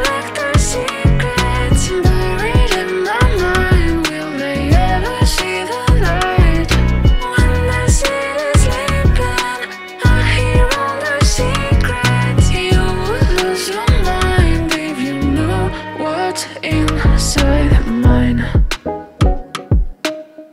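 A produced beat with piano chords and a thumping bassline plays steadily and loudly, ending with a few scattered hits.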